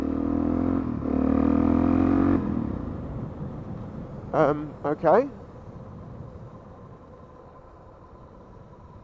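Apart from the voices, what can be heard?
motorcycle engine cutting out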